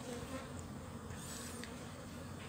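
Honeybees swarm at an open hive while queen cells are checked for newly emerged queens, a dense, steady buzzing drone that stays close and loud throughout with no talk.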